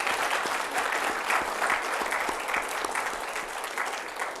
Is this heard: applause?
yes